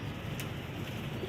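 Rampuri pigeons of the bank or chandakhani type coo softly and steadily, a low continuous murmur of several birds close by with no talk over it.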